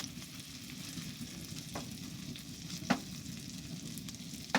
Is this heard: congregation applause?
no